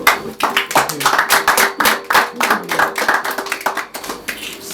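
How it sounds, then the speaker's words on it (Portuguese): Steady applause from a crowd at a lecture, dense hand claps filling the clip at a loud, even level with a faint voice underneath. "Uma salva de palmas"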